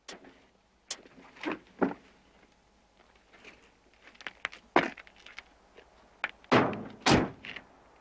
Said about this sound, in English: And Rowan, open the door and step out of the truck